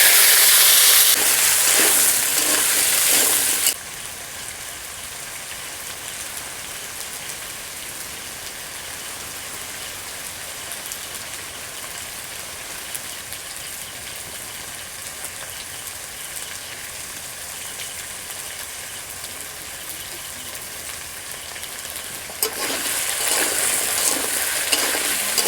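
Potatoes fry in hot oil with a steady, even crackling hiss that holds for most of the stretch, louder bursts at the start and end.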